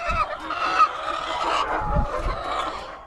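Hens cluck and call loudly in a coop after laying eggs. Several birds let out overlapping squawks and cackles close by, with a few low thumps underneath.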